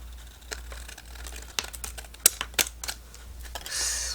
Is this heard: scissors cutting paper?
yes